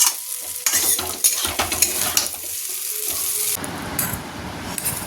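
Chowmein with small potato pieces crackles and sizzles in a pan as it is stir-fried, with close scraping and clattering of the utensil against the pan throughout.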